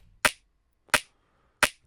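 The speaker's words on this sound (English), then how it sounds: "Originally the click was sounding like this." Three sharp, dry snare drum click samples, unprocessed, land evenly spaced with about two-thirds of a second between hits, each a crisp snap with a quick decay into silence.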